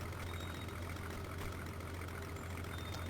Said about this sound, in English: Why are you idling the plane?